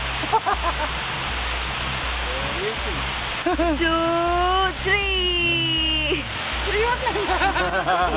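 Fast-moving river water rushes loudly and continuously in Bali, a dense steady roar under a man's speech and other voices throughout.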